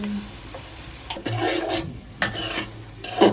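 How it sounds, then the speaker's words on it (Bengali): Spices with soy sauce, pepper, cumin and garam masala being stirred in a hot frying pan, a close run of scraping and sizzling strokes in irregular bursts. "ভালো করে নেড়ে চেড়ে নিবে"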